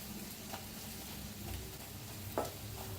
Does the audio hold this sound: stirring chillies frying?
yes